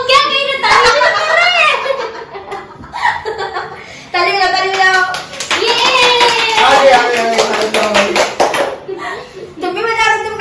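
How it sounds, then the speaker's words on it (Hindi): Family members clap their hands during a homecoming welcome after a wedding, bursts of applause mixed with a voice, chuckles and lively talk throughout. "ताली बजा रहे हैं। ताली बजाओ"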